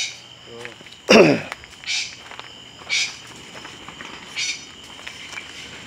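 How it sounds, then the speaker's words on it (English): A loud, harsh golden pheasant screech bursts out once near the start on an exotic bird farm, followed by a few fainter shrill calls spaced through the rest, over a faint steady hum. "That screeching noise you hear, that was that red golden"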